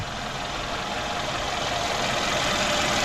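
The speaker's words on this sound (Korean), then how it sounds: "이 벨트 돌아가는 소리, 그 다음에 냉각된 돌아가는 소리, 엔진 소리, V8, V8 엔진 소리" A Mercedes-Benz S550L V8 engine idles up close, hood open, with a dense, steady mechanical whir and rumble from the turning belt and cooling fan, the rotating drive noise holding constant throughout.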